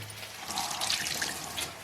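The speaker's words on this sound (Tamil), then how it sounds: "ரொம்ப தடவை வாஷ் பண்ண வேண்டியது அப்பா." Tap water runs steadily into a kitchen sink during washing for a chicken noodle meal, a continuous splashing hiss, close and moderately loud, with slight surges.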